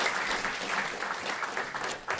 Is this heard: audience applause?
yes